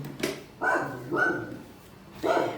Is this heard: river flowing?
no